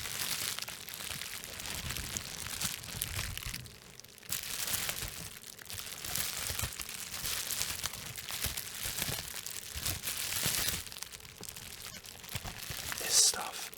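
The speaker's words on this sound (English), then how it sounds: "So I'll start off with this wrapping paper that came on the stuff I ordered." Wrapping paper from a delivered order crinkles and crumples continuously and loudly, with rustling bursts and short pauses throughout.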